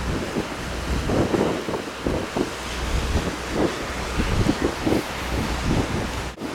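Strong wind buffeting the microphone at the beach during a bomb cyclone winter storm, steady loud rumbling gusts with surf underneath and no talking.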